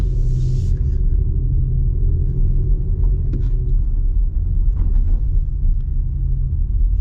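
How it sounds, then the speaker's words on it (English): A 2024 Audi SQ5 rolling over a bumpy road, heard from inside as a steady, loud low rumble with faint knocks from the suspension and no talking. "Let's see how it does over the bumpy road."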